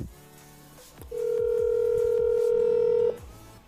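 A WhatsApp outgoing video call rings on a phone, a steady loud electronic tone holding for about two seconds over faint background sounds, with no one speaking.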